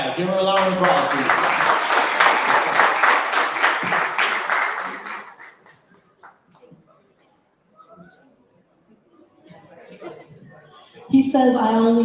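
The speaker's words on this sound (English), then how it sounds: "give her a round of applause" Audience applause with chuckles and laughter at a Women's Day community event in Texas, a loud burst of clapping for the first five seconds that fades into near silence, then talk resumes at the end.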